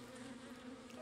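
Continuous low insect drone of a bee in The Legend of Zelda: Tears of the Kingdom, steady and fairly faint, with no voices over it.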